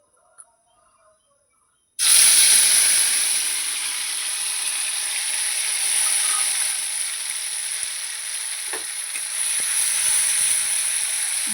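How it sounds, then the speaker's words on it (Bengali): Ground white mustard paste and a green chili hit hot oil with a sudden loud hiss, settling into a steady close sizzle after a brief quiet moment. "এখন আমি এখানে সাদা সর্ষে বেটে নিয়েছি আর একটা কাঁচা লঙ্কা আমি এটা তেলের মধ্যে দিয়ে দেবো"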